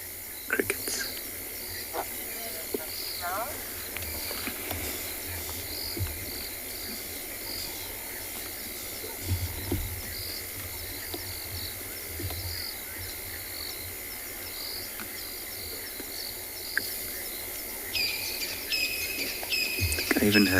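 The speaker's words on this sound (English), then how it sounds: "Crickets." Crickets chirp in the South African bush at night, a continuous, steady, rhythmic trilling chorus. Occasional soft rustles and faint murmuring sit low underneath.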